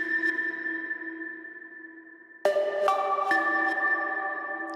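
A bright, bell-like Omnisphere synth tone sustains, then a new note strikes and shifts pitch a few times in quick steps, alternating across three octaves, ringing clearly with no voices.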